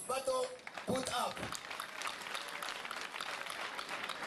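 Audience clapping for participants at a school quiz competition, a broad wash of applause that swells after a man's brief spoken words at the start, then continues steadily to the end.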